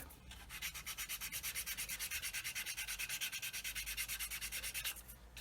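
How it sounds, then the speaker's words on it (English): A sanding stick is rubbed back and forth over plastic parts of a 1/32 Kitty Hawk OV-10 Bronco scale model kit, with steady rapid strokes in a regular scratchy rhythm. It sounds close and even throughout, with no talking. "I'm just going to take a sanding stick and sand it all flat so that everything's all level"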